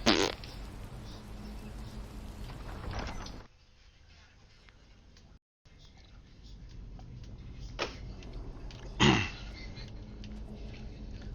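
A fart sound in a fantasy video game, a short blast near the start and another sharp burst later, set among clicks, creaks and mechanical game noises.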